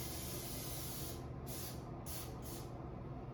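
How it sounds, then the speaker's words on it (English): Three short hissing bursts from an aerosol cooking spray can coating a baking pan, close by, over a steady background hum. "just spray the bottom and the side very well so the banana bread doesn't stick"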